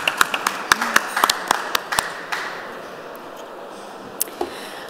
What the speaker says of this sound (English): Can we have one more round of applause for our 2 speakers,